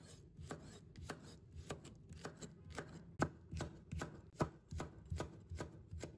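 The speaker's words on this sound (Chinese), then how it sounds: "把它切成丝。" A kitchen knife slices half a red chili pepper into thin strips on a cutting board, giving about fifteen crisp, evenly paced chops at close range with no talking.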